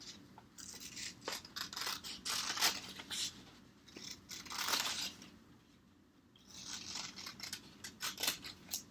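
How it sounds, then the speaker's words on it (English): Scissors cut through folded paper in a quiet room, a series of crisp snipping and rustling strokes coming in bursts with short pauses between them, close by and with no voices. "and then I folded my paper at the top. So you want to make sure you have plenty of paper down there. And then I just cut it out."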